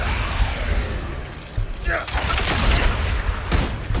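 Enemy gunfire in the Diablo 4 dungeon fights as a dense, continuous rattle of shots with sharper bursts near the end, mixed with game effects and speech.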